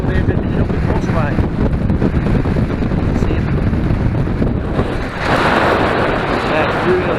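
Strong wind roars and buffets across the microphone on a hilltop on Winter Hill during a bike ride, loud and continuous, with a voice speaking briefly.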